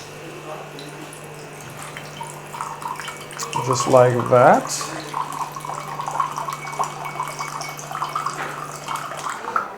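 Water dispenser set to a measured volume pours water into a water bottle, a brief splashing burst of a second or so beneath a person speaking, with steady background hum.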